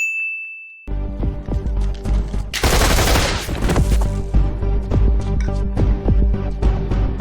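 A single high ding gives way to a burst of rapid gunfire with metallic clangs from a television drama scene, the shots loud and close, rattling on in quick irregular volleys.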